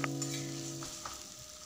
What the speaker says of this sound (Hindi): तो प्याज को हम फ्राई होने देते हैं